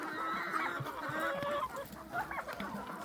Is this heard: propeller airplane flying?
no